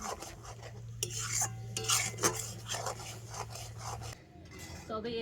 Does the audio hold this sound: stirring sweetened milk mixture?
yes